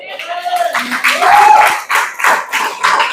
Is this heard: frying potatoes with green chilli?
no